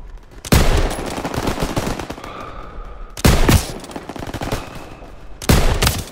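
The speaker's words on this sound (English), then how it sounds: "MGs, open fire." Machine gun fire in the World War II shooter Call of Duty WWII: three loud, sharp bursts of rapid automatic fire, each trailing into a rumbling battlefield wash between them.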